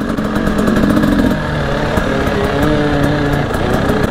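A KTM dirt bike's engine revs hard as it climbs uphill in the rain, a loud, close, continuous snarl with the pitch dropping and rising through gear changes.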